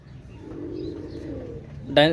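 Oman teddy pigeons coo softly in low, rolling murmurs, then a brief louder bird call comes at the end.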